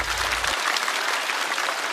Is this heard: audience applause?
yes